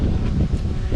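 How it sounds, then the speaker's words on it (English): Wind buffets the microphone outdoors beside a boat, a loud continuous low rumble filling the whole moment with no voice on top. "Oh, it's a bit windy. I hope you can hear me here."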